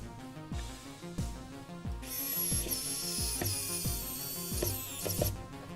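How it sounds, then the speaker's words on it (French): Parts of a K.I.T.T. model kit, issue 27 with its turbine, being screwed together by hand: close, steady ratcheting clicks repeating in a regular rhythm, with a brighter whirring layer joining partway through. "Et on vient gentiment visser."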